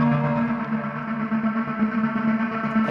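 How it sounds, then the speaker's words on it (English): Origin X synthesizer tone with its reverb macro applied, sustaining a steady layered chord whose echo tail smears the notes together at moderate, even loudness throughout. "this is what it sounds like with our reverb macro"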